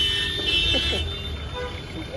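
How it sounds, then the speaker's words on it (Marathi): Car horns honk in busy road traffic, sharp tooting bursts over a steady rumble of engines and road noise, with people talking close by. "किती हॉर्न वाजवायलेत ना बाई"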